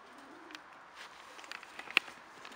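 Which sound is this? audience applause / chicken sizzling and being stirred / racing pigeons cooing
racing pigeons cooing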